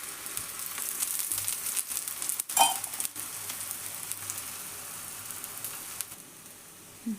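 Cabbage and wheat-flour thalipeeth frying in oil in a pan, a steady close sizzle with crackling spatter and a brief louder stir or scrape midway, with no talking.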